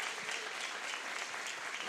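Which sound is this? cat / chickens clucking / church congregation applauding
church congregation applauding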